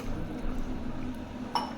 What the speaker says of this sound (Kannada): ಈಗ ರೈಸ್ಗೆ ಎಷ್ಟು ನೀರು ಬೇಕಾಗುತ್ತೆ ಅಷ್ಟು ನೀರನ್ನ ಆ್ಯಡ್ ಮಾಡ್ಕೊತೀನಿ